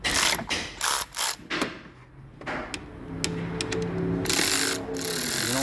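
A Snap-on cordless ratchet loosens a 10 mm battery bolt on a 2014 Hyundai Santa Fe, giving several short, sharp whirring bursts up close, then going quiet under a low background hum.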